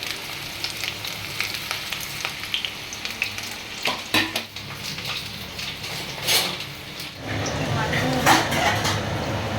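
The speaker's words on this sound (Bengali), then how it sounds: "আলু ভাজা হচ্ছে" Potatoes fry in a pan with a steady, close sizzle, broken by clinks and scrapes from stirring.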